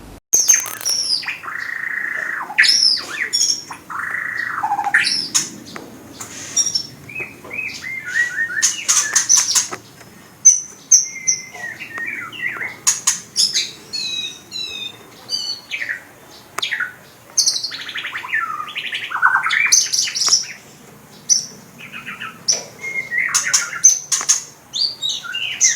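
A white-rumped shama (murai batu) sings a varied, continuous song of clear whistles, rapid trills and sharp chirps, loud and close, with short pauses between phrases and no talk.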